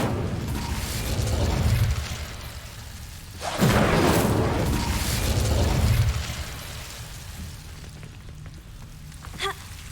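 Incendio fire spell bursts in the Hogwarts Legacy video game, a couple of loud whooshing flame blasts rising and fading against continuous rumbling game ambience, with a small pop near the end and no talk.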